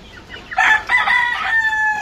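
A rooster crows once in a small backyard chicken coop, a loud, close call with a rising start and a long held tone that tapers off over about a second and a half.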